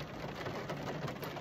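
Steady rain pattering outside a steamed-up car parked in Litomyšl, a continuous even hiss of drops with no voices.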